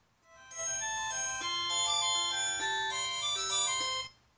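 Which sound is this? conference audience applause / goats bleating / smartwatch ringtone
smartwatch ringtone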